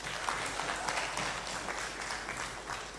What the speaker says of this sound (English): And better clap for Father among us.